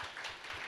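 Church congregation clapping to celebrate a young couple's engagement announcement during a Sunday service, a brief, soft patter of many hands heard from some distance.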